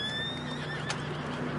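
A horse neighs in the video game Red Dead, a high, wavering whinny, close and clear over steady ambient noise, with no talking.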